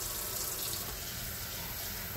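Soapy water runs steadily while a coffee maker is cleaned with dish detergent, a continuous faint hiss of flowing liquid with no voices over it.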